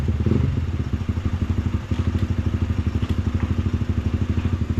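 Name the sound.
Honda CB150X motorcycle engine on a test drive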